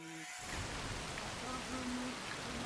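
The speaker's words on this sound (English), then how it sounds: "Yeah, the rain really ruins it." Steady rainfall in the video game Assassin's Creed Shadows, an even hiss of falling drops that starts after a brief opening tone and runs on without a break.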